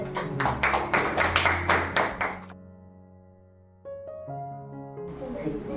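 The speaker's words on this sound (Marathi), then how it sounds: "टाळ्या." A crowd at a prize distribution ceremony for a housing-society fort exhibition claps in a dense, rhythmic burst for about two and a half seconds, then falls silent as sustained tonal music takes over.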